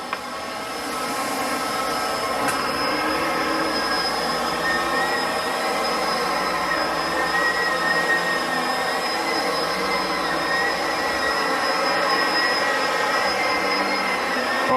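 A light upright vacuum cleaner runs steadily for the whole stretch, a loud continuous motor whine with a high tonal hum above a broad rushing airflow. No one speaks.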